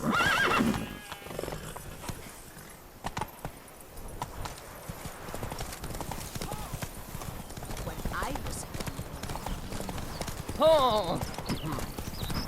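Horse hooves clip-clopping in The Witcher 3, a steady close rhythm under spoken dialogue, with a horse whinny rising near the end.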